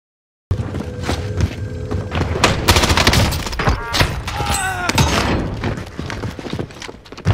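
Video game gunfire cracks in rapid bursts amid horse hooves and thuds. The shots are loud and close, and someone talks over the action.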